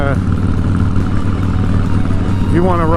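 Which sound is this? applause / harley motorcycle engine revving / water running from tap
harley motorcycle engine revving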